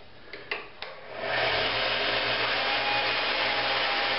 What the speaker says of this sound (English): turn your belt sander on, and then you switch your hand drill in reverse